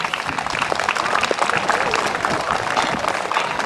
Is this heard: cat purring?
no